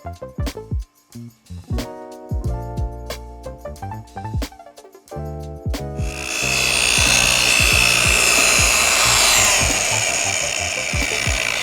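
Oil being rubbed and polished into a fine solid-wood heirloom bench: a run of soft, separate scuffing strokes leads into a steady, close, continuous rubbing hiss, with no voices.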